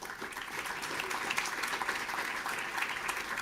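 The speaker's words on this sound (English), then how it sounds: "Another round of applause for all of our winners tonight." An audience at an awards celebration applauds the winners, a steady, dense patter of many hands clapping at moderate distance, sustained throughout without a break.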